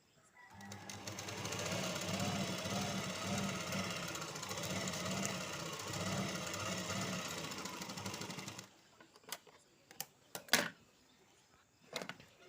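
A sewing machine stitches a sleeve lining in one steady, close, rhythmic run of needle chatter for about eight seconds. It then stops, leaving a few scattered clicks and fabric handling sounds.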